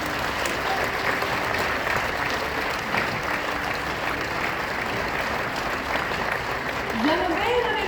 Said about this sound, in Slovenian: En aplavz za moje punce.